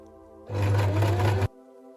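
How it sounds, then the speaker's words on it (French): A sewing machine stitches the visors of a bucket hat in one steady, loud, close burst of about a second, starting and stopping sharply. A quiet hum is heard before and after. "Je vais coudre tout ici, chaque. Et je vais faire ça des deux côtés."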